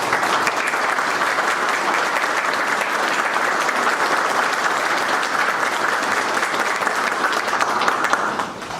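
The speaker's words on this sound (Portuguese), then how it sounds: "Peço-lhe para que fique de pé para receber uma salva de palmas de nossa ilustre plateia." A ceremonial audience at a municipal chamber's solemn session gives sustained, dense applause that holds steady and loud for several seconds before tapering off at the end.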